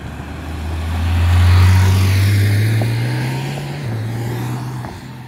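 A Porsche GT3 RS engine drones steadily, its pitch climbing and swelling to a loud peak before easing back and holding. No one speaks.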